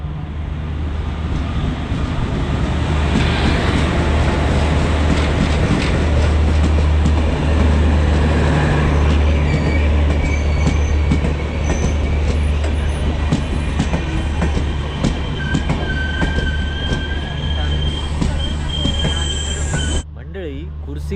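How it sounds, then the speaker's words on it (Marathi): The Ratnagiri–Diva passenger train on the Konkan Railway rumbles close by as it arrives, with loud, sustained wheel squeal and a steady low drone, carrying on for a long stretch before easing near the end. "बऱ्याच प्रतीक्षेनंतर ट्रेन आली आहे"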